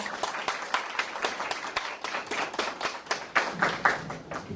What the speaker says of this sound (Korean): 김재인 교수님 큰 박수로 모셔보겠습니다